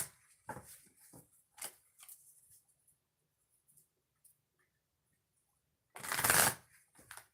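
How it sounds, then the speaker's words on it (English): Oracle cards are shuffled in short papery riffles and taps, then a louder, longer riffle close by, with no talking. "So 2 shuffles for Scorpios."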